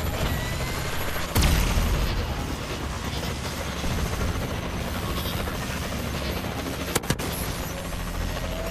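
Warbird aircraft support arriving in Call of Duty: Advanced Warfare, a loud constant rotor-like roar with a sharp impact early on and a pair of quick bangs near the end, no voices.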